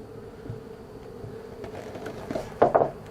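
Honey bees around a swarm hive, a soft steady hum close by with a brief louder buzz near the end.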